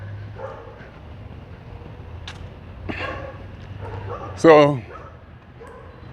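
A dog barks, yips and snarls while baring its teeth, a sharp loud bark burst standing out near the middle, with a person talking quietly around it in an outdoor setting.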